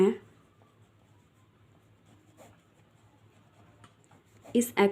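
Scratchy strokes of writing on a board during an Indian polity lecture, faint and intermittent through the middle, with a voice speaking at the start and end.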